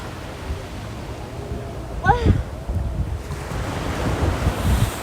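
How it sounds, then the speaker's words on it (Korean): Cold winter wind blowing at Gwangalli beach, a steady rushing roar mixed with surf, while a person makes a short vocal sound partway through. "바람 불지 마"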